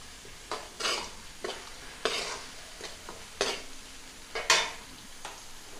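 Ginger, garlic and cumin paste with chilies frying in a pan, soft sizzling broken by repeated scraping stirs at an irregular pace.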